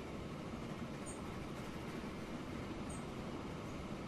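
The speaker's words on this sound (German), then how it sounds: "Guckt mal, wie viele Züge hier angefahren kommen." In the game Transport Fever 2, trains arrive along a busy museum railway line, giving a steady, fairly faint rolling rumble of wagons with no voices over it.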